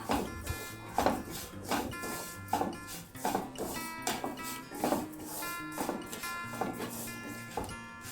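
A spoon scrapes and stirs milk powder, sugar and cardamom powder in a pan over a slow flame, with steady rhythmic strokes close up under soft background music.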